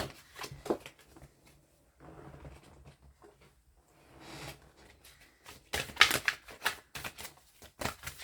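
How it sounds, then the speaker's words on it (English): A deck of oracle cards is shuffled by hand, giving soft, irregular riffling and flicking bursts that start and stop, with a few sharper slaps and taps close by. "I want to make sure I shuffle up this deck really good."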